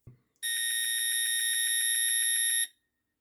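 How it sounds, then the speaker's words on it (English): Electronic end-of-game tone from a 1979 Bambino Lucky Puck handheld hockey game: a loud, steady piezo beep with a fast warbling pulse, held for about two seconds and then cut off abruptly. "That is the end of the game sound."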